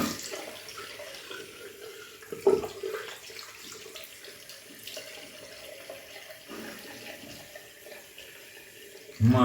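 Tap water runs steadily into a sink while shaving soap is rinsed off, a soft continuous splashing with one brief louder knock midway and a sharper clatter at the end.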